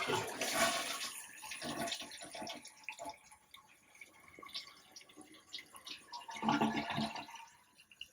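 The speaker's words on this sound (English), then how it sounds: "Let's give it a flush" A toilet flushes after its tank parts are replaced, with a loud initial rush of water, then a gurgling refill and trickling that surges again near the end.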